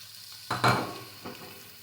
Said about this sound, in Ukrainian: Тепер я сюди додаю м'ясо